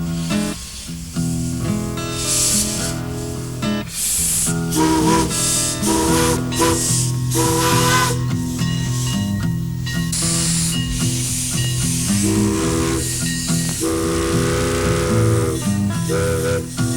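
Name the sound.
steam locomotive of the Mount Rainier Scenic Railroad, hissing and whistling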